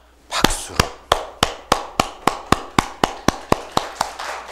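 A church congregation claps together in a steady, even rhythm, about a dozen sharp, loud claps spaced evenly apart, with no talking.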